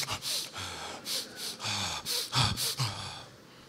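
A voice imitates greedy, gasping breathing: a series of sharp, loud in-and-out gasps and snorts in a quick uneven rhythm, close to the microphone, with no words spoken.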